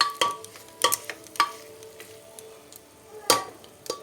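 Fried pointed gourd and potato pieces tossed into masala in a pan, giving soft sizzling with several sharp clinks and scrapes of a spoon against the pan, close and without talk.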